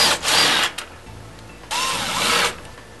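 Cordless drill driving a 13 mm socket and No. 3 Phillips tip to remove bumper bolts on a Club Car DS golf cart, two separate whirring bursts up close, each lasting under a second, with a quiet pause between.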